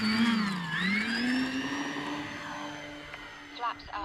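An E-flite Beechcraft D-18 radio-controlled twin-engine plane takes off from grass, its electric motors whining and rising in pitch with a Doppler sweep as it climbs away, under a person talking.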